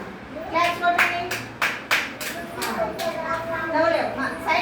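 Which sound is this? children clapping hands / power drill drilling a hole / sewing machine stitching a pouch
children clapping hands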